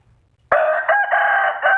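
A ten-month-old Burmese fighting rooster crows loudly and close by, one sustained call that cuts in suddenly after near silence and carries on with a slight waver.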